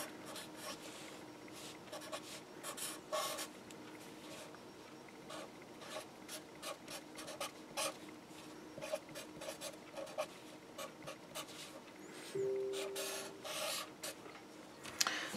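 Chalk or marker scratching out equations on a board during a relativity lecture, a run of short scraping strokes with small pauses, fairly close and alone without talk.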